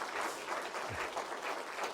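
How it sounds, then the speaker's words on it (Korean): A church congregation at a Sunday worship service claps together in blessing for a pastor, a dense, even wash of applause that holds steady from start to finish. "우리 박수로 기원하겠습니다"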